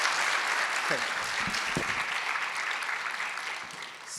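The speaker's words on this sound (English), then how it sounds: "I just would like to have a round of applause for Hal" Audience applause for fashion commentator Hal Rubenstein, a steady broad clapping wash that carries through the clip and thins toward the end, with a brief spoken word over it.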